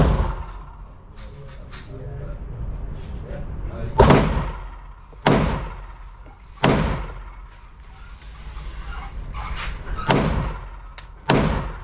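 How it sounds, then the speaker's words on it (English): Pistol shots from a Springfield Hellcat Pro and a Glock 43x fired outdoors: five sharp, loud reports spaced a second or two apart, each with a short ringing tail, over faint background noise and brief talk. "I'm gonna shoot his 5 now"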